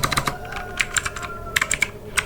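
Rapid typing on a computer keyboard while entering router commands in a CLI, with crisp, uneven key clicks in quick bursts, close and clear with no speech.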